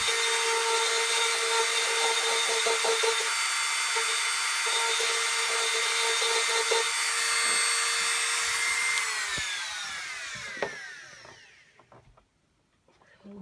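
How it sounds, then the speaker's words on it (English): A Dremel rotary tool grinds the rough edges of a cracked fiberglass fairing on a Suzuki SV650, a steady high whine running loud for about nine seconds before spinning down and stopping, with a few clicks and knocks afterward. "use the Dremel tool to get rid of the rough edges so that I can flatten that section down"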